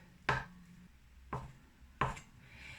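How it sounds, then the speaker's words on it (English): Knife cutting through a block of cheese on a board, slicing it into tiny squares: three sharp, separate chops at an uneven pace, close and fairly quiet. "I want to slice it into little tiny squares here"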